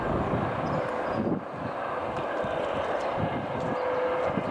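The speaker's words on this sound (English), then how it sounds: "I can hear the rotors and they're coming now actually." Eurocopter EC135-P2+ helicopter of an electricity distribution operator making a low pass, its rotor and engine noise a steady, broad distant roar that holds throughout with a brief dip partway.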